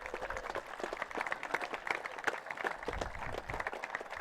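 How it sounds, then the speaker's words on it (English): Spectators at a national secondary-school rowing regatta finals applaud the Auckland Grammar crew, a fairly faint, distant ripple of crowd clapping sustained evenly over several seconds. "So big round of applause, please, for Auckland Grammar"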